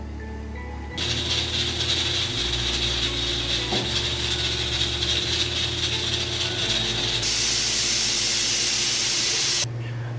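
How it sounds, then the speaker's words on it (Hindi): A pressure cooker cooking mutton yakhni lets out a loud, steady hiss of steam for several seconds, with a low rattling undertone, before cutting off near the end. "अब हम इसको 15 मिनट के लिए प्रेशर लगाएंगे।"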